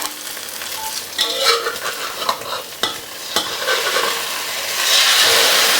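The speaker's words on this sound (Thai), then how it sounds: "ทอดไปเรื่อยๆ จนอีกด้านหนึ่งสุกค่ะ" A basil omelette fries in a pan of oil, a loud close crackling sizzle with spatula scrapes and taps as it cooks, the hiss rising stronger toward the end, no speech.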